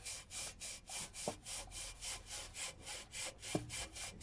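A cloth rubbed with Autosol polish scrubs back and forth around a car exhaust pipe in a steady, regular rhythm of close, rasping strokes.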